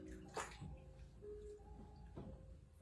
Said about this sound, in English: I'm going to rinse it off with my bowl of water